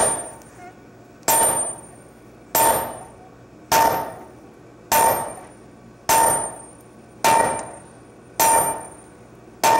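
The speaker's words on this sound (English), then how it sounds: "that's as deep as I need to go with this fuller mark, and I can do the whole axe in one heat" A blacksmith hammers fuller marks into quarter-inch bar stock while forging an axe, eight evenly spaced ringing metallic blows about every 1.2 seconds, each with a bright ring that fades before the next strike, close and alone.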